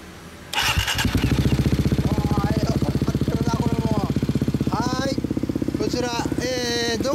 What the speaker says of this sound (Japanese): エンジン音聞かせてもらえる？